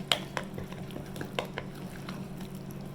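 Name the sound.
stirring cornbread batter with eggs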